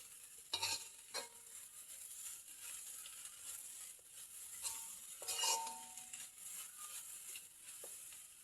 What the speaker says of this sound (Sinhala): ඒ ටික තෙල් වල ටෙම්පරාදු වුණාට පස්සේ අපි මේකට ලීක්ස් ටිකක් එකතු කරලා කවලම් කරගන්නවා.